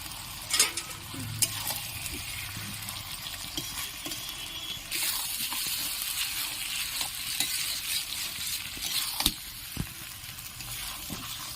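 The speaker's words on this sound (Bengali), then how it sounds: "এবার এতে আমি ভেজে রাখা চিংড়ি মাছগুলো দিয়ে দিলাম" Fried prawns tipped into taro already browning in a pan, a constant busy sizzle with clattering stirs and sharp scraping knocks, steady and close with no voices.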